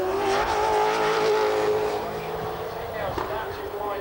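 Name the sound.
Cummins-sponsored Holden Commodore race car starting flying lap, Bathurst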